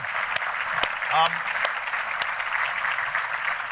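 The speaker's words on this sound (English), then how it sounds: "I think that deserves a round of applause just for being patient with me." An audience at an industry lunch session gives a steady round of applause, broad even clapping throughout with a brief voice breaking through near the start.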